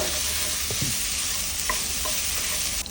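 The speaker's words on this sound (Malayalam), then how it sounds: "ഉപ്പ് ചേർത്ത് കഴിഞ്ഞിട്ട് നന്നായിട്ട് വഴറ്റുക" Chopped bitter gourd with salt sautés in a pan, a constant close hissing sizzle with a few soft scrapes of the stirring spoon and no voices.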